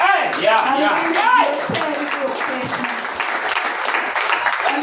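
A church congregation at a power mission gathering applauds, dense continuous clapping filling the room while a voice speaks over it.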